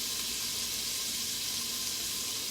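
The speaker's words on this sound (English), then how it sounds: "So I'm just browning that sausage." Sausage browns in a quick cooker, with a steady broadband sizzle and frying hiss that holds throughout. No one speaks.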